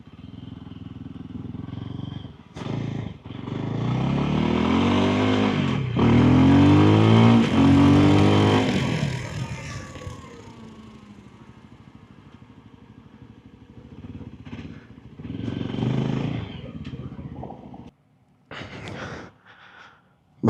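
A 2026 VOGE GY 300 Rally motorcycle pulls away with a loud rising engine note that climbs through the gears, then fades to a lower rumble with brief bursts of revving.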